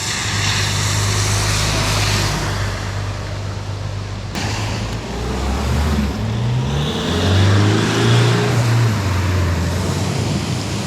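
A lorry passing close on a wet road, a loud hissing tyre spray and engine rumble swelling and fading, followed by more traffic drone and shifting engine tones.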